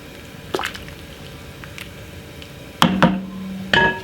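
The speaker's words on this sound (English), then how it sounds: "give it a quick stir like this" Potatoes get a quick stir in a pot, producing a few wet, squishy knocks and a louder clatter near the end, close and otherwise quiet.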